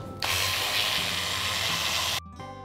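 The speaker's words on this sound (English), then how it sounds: "So here goes in the sugar. And let's grind this once again." A mixer grinder blends hazelnuts, chocolate and sugar with a loud, steady whirring roar lasting about two seconds, then cutting off abruptly, leaving the motor's fading spin-down.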